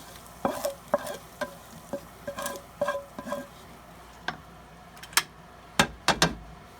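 Cooked hamburger being stirred into cabbage in a pan: a series of close scraping and clacking strokes of the utensil against the pan, irregular in rhythm, over a faint sizzle, with no talking.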